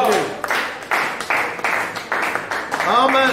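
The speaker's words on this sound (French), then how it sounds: "Est-ce qu'on peut donner une acclamation à notre Dieu?" A church congregation claps and acclaims God in pulsing, rhythmic bursts of hand claps and voices, loud and close, with a single voice rising near the end.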